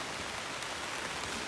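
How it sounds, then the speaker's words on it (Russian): Steady rain falls on an overcast day near newly lit furnaces, a continuous even hiss of drops on surfaces with no pauses and no talk. "Сегодня у нас идет дождь"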